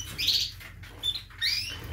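Canaries chirping in short bright bursts, a quick twittering call followed by a pause and then another brief squabbling flurry, close by with a low steady hum underneath.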